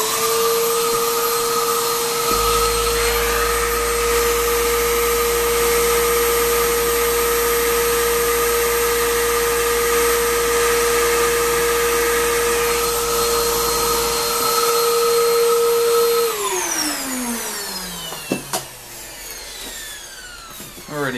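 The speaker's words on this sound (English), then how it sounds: "Use my vacuum here." A vacuum cleaner picks up grit dust from a rock tumbler, running with a steady high whine and roar for most of the stretch, then powers down with a falling pitch, leaving some brief clatter.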